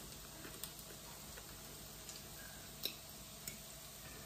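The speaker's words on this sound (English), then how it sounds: "You just keep frying until they're all golden, till they're all lightly browned and delicious." Cod cake patties fry quietly in a pan, giving a faint, steady sizzle with occasional soft ticks and pops and no voices.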